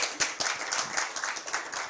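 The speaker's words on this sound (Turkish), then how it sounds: "Onları da alkışlayalım." Audience applause in a television studio program, a dense, steady wash of many hands clapping that stays fairly loud and even for about two seconds.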